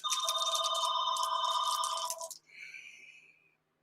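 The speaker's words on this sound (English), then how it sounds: "Just got to love those garbage phone calls you get during the day." A telephone bell rings in a steady, loud burst for about two seconds during a 1975 World Series Game 7 baseball broadcast at Fenway Park, then fades into a softer trailing tone.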